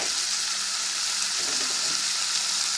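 Fried potatoes being stirred in a pan, a continuous sizzle with soft scraping movements across a short stretch, with no voices.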